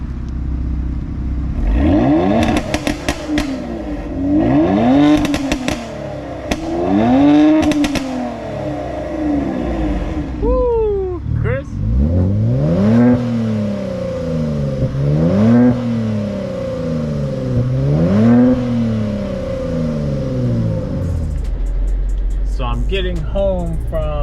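A car fitted with a Borla Type S catback exhaust, lap 3 ECU and methanol injection, revving loudly and repeatedly, rising and falling through the gears as it accelerates up close, with mechanical clatter between pulls.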